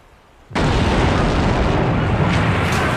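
A massive blast as the battleship USS Maine blows up in Havana Harbor at night in 1898, bursting in abruptly after a quiet moment and roaring on as a loud, sustained rumble with no voices.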